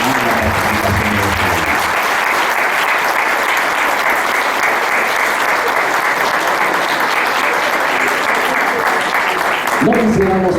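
Sustained, loud applause from a ceremony audience at an institute's sixth-anniversary event in San Luis Potosí, dense clapping throughout with brief speech at the start and end.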